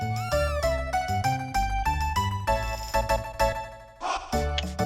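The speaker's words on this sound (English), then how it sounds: "Alright, now let's get this cat back to the girl." Cat meows from the Chrono Trigger video game stand out over bright, tonal chiptune-style background music, with a cluster of short mewing cries near the end of the passage.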